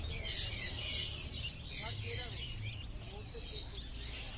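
Cockatiels, budgerigars and finches chirp and twitter together at the Goriya bird market, a steady high chatter from many birds over low background rumble.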